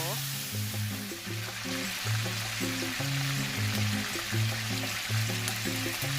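Thin slices of beef for Filipino bistek sizzle and crackle steadily in hot oil, close and continuous, with a soft background tune and no talking.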